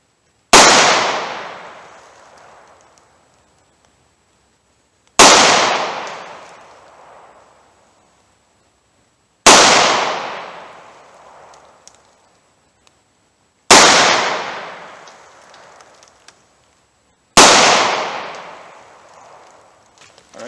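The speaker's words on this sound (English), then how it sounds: "here's 15 yards with my 38 Special snub nose revolver" .38 Special snub nose revolver fired at 15 yards, five loud, sharp gunshots evenly spaced about four seconds apart, each with a long ringing decay into quiet.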